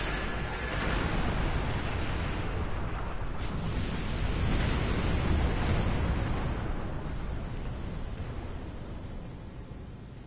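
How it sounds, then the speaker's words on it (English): A torpedo barrage in a Star Trek space MMORPG sets off a sustained, dense roar of rumbling explosions, loud and continuous for about ten seconds with a few sharper bursts mid-way before easing slightly at the end. "Torpedoes."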